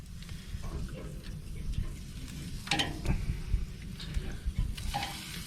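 Chicken fajitas sizzle on a BBQ grill as they are flipped, a quiet, steady crackle with scattered ticks and soft scrapes from the turning.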